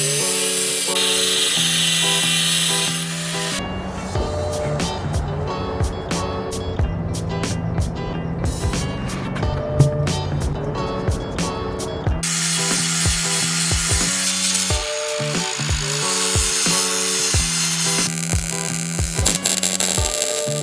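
A power cutting tool slicing a large section out of the metal bodywork of a stretched, lowered Doodle Bug scooter, a loud continuous grinding whine with shifting pitch and rapid clicking in the middle.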